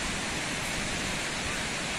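Sea waves break along a beach at dawn while it is still dark, a steady broadband wash of surf that stays constant throughout with no distinct talking.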